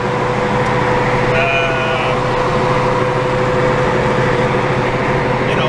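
A 1982 Mercury Capri fitted with a lumpier camshaft, an Edelbrock intake manifold and an Edelbrock 4-barrel carburetor, cruising along: a steady, loud engine and road drone that holds even throughout, with no talking.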